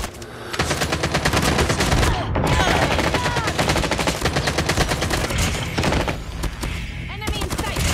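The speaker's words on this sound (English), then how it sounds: "The sentry gun, you stupid motherfucker." Sentry gun firing in the video game Call of Duty Mobile, loud rapid continuous automatic gunfire filling the whole stretch with only a brief dip, close and dense.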